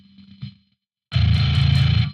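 Electric guitar through an amp's distortion channel, a loud sustained chord ringing steadily for about a second after a brief quieter passage and a pause.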